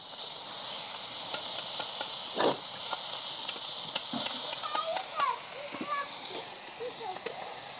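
Cooked jowar (sorghum) is stir-fried in a kadhai for khichdi: a soft, continuous sizzle and hiss with scattered scraping and clicking from the spatula, fairly quiet and close.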